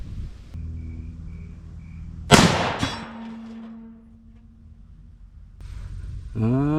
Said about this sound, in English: I'm just going to take a test shot or two with the actual ammo used to sight this in